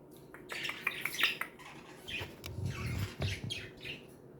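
Pet budgies chirping and tweeting in a busy cluster of short calls and squawks, close by, with faint clinking in the background.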